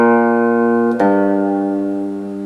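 Electric guitar plays a blues phrase, with a sustained note changing abruptly to a lower ringing note that settles on the root G and slowly fades, no talking.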